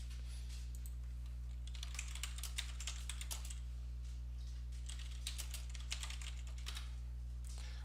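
Rapid, uneven keystrokes clatter on a computer keyboard, close and fairly quiet, in bursts with short pauses over a steady low electrical hum.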